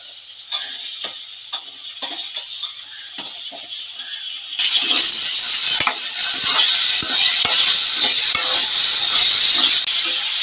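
Chopped tomatoes drop into a pan of softened onions for a brinjal dry fish curry, and a loud, steady sizzle suddenly swells up after a few quieter clicks and clatters.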